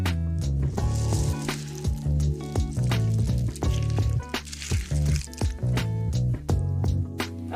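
Elbow macaroni is stirred into a pot of BBQ chicken chili, giving wet squelching and sloshing in an uneven rhythm, with occasional soft clinks from the spoon, close and fairly loud.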